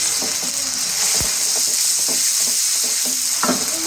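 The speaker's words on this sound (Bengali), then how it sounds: "এটার মধ্যে আদা রসুন জিরা পেস্ট এই যে দিয়ে দিলাম 2 চামচের মতো" Ginger, garlic and cumin paste frying with onions in a pan for a prawn curry, a steady bright sizzle with scattered scraping stirs and a few sharp clicks, no talking.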